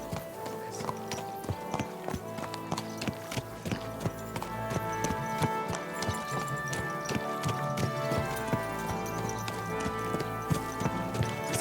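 Rhythmic clip-clop of horse hooves galloping in Kingdom Come: Deliverance 2, a fast steady beat with occasional snorting over layered game music, close and continuous throughout.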